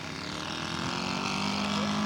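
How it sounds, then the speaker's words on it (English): A scale model Newport 28 aircraft makes a flyby at a scale aircraft show, its engine a steady, buzzing drone that grows slightly louder as it passes. "Gary Parker on a flyby with Jerry Turrentine's 28"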